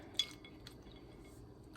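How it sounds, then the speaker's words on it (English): Ice cubes dropped into a bowl of cold tap water for soaking sliced potatoes for homemade potato chips; a few faint, sparse clinks sound close by against an otherwise quiet kitchen. "Okay, put some ice cubes in there."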